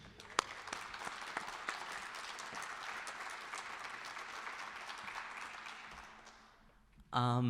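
A school-district audience gives sustained, steady applause for a student speaker walking up to the stage, then it fades out before a voice starts speaking at the very end.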